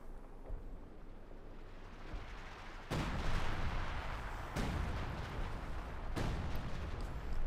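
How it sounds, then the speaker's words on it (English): Artillery fire in Company of Heroes 2, with repeated heavy blasts that keep landing over a constant rumble of battle. Loud impacts hit at around three, four and a half, and six seconds, and nothing else is heard. "Artillery called in there"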